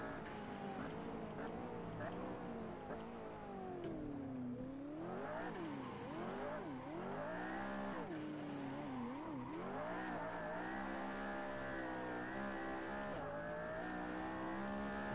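A McLaren P1 driven at full throttle in the Assetto Corsa racing game, its engine note loud and continuous, sweeping up and down through gear changes and then holding a steady high-revving drone.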